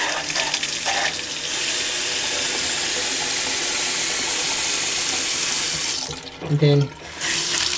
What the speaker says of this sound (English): we can turn on the water at this point just to check if there's any leaks